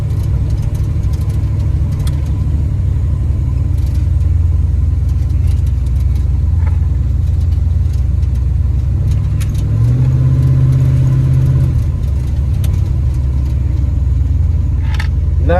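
A car with a freshly built 383 small-block engine runs steadily, its deep idle rumble filling the recording up close, with a brief surge in revs midway and faint clinks and rattles around it.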